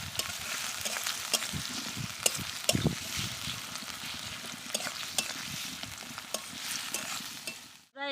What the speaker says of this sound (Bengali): পেঁয়াজ কুচি, পেঁয়াজগুলো একটু লাল লাল করে ভেজে নেব।